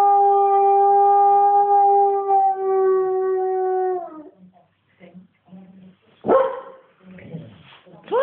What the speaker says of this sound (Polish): Pieski są, tak?